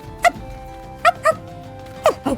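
A person imitates a dog's woof with their voice, four or five short barking yelps spread unevenly across the moment, fairly close and clear over a faint steady background hum.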